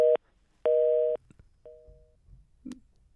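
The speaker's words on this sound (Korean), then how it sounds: "지금 그 전화가 끊긴 것 같습니다" A telephone line's busy signal right after a call drops during a Korean radio current-affairs broadcast: repeated steady two-tone beeps with gaps between them, then a brief click and faint line noise. No speech.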